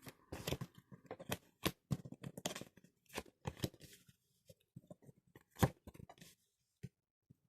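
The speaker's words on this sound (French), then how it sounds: "j'étale et je vais tirer 5 cartes" Tarot cards spread out and drawn one by one on a table, giving a run of crisp, close card snaps and slides with short pauses between them, and no talking.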